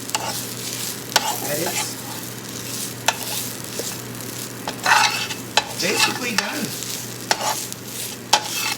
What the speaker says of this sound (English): You can hear the different sound of the sizzling.